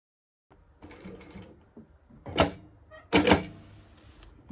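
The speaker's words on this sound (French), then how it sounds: "on coud dans la première couture, donc à 1 mm du bord" A sewing machine stitches a seam in jeans about 1 mm from the edge on the right side of the trousers, running in a few short mechanical bursts, close and moderately loud, with brief pauses between runs.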